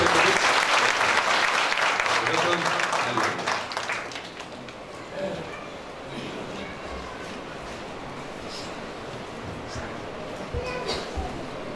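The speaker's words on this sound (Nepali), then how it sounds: "फेरि हामी बिग ह्यान्ड है हामी उहाँलाई ताली बजाउनु" Enthusiastic audience applause for a Nepali church pastor speaking at a gathering in Bangalore, loud and dense at first, then thinning into scattered claps under a voice.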